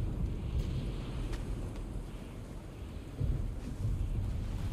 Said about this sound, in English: Thunder doesn't bode well